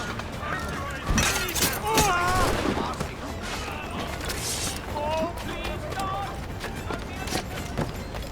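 Gunfire in the Assassin's Creed IV Black Flag video game, scattered shots and bursts mixed with hoofbeats and a busy battle din, while characters shout over it.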